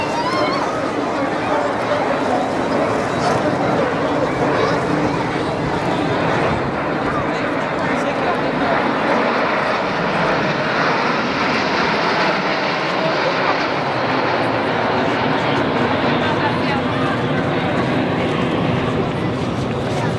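An airplane roars overhead at the Toulon air show, a loud, continuous broadband engine rush that swells and fades across the whole stretch, with crowd chatter and nearby voices beneath it.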